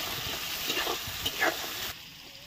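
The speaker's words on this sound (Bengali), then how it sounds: "এবার আমরা পেঁয়াজটা ভাজা ভাজা হয়ে গেছে" A large batch of onions frying in plenty of oil for mutton curry, giving a moderate steady sizzle with a few stirring scrapes before it drops quieter near the end.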